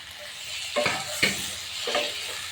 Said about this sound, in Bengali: আলুটা দিয়ে সুন্দর করে একটু নেড়ে চেড়ে নেব